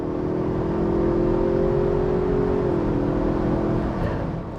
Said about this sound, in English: this little engine is actually pretty nice sounding